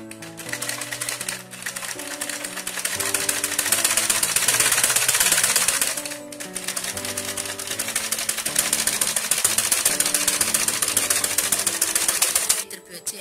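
Close up, a sewing machine stitches crochet lace onto a skirt, its needle hammering in a fast rapid rhythm that runs in two long bursts, with a short pause between them.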